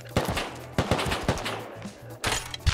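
Gunfire from the survival game Rust: several sharp shots in quick bursts, loud and close, with a steady low hum running underneath and a final burst near the end.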